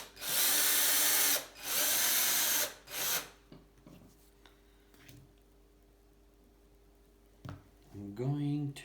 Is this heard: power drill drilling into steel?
yes